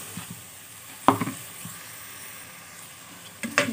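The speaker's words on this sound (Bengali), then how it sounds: "ডিম দিয়ে আমি ভালো মতো নেড়ে ছেড়ে নেব।" Eggs are stirred into sizzling spiced masala in a pan, a steady soft sizzle running throughout with a few scraping spatula strokes, a sharp clink near the middle and more stirring at the end.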